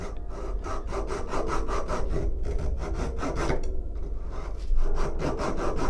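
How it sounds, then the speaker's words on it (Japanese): Rapid, rhythmic rasping strokes of a fine, thin saw cutting through wood during wood carving, close and steady, with brief pauses between bursts. "尻尾の内側の部分を細めのノコギリで"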